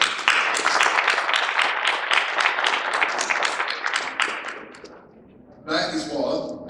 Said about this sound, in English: if everybody can give themselves a round of applause.